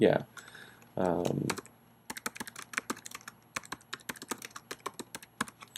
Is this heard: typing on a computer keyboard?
yes